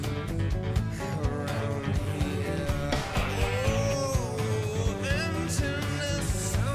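Drumming from a song plays in a full band mix, with busy, dense hits and rolls under other instruments, steady and moderately loud, with no talk.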